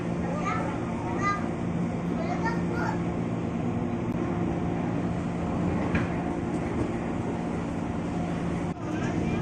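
A long twelve-car KRL commuter train pulling out of Tanah Abang station, heard from inside as a constant low rumble and motor hum, with a person talking over it.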